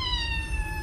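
A cat gives one short meow, a single clear drawn-out tone heard on its own.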